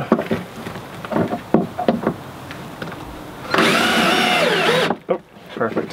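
Power drill driving a screw during a duck-related build, a steady whirring burst of about a second and a half that stands out loud and close, with people talking before and after it.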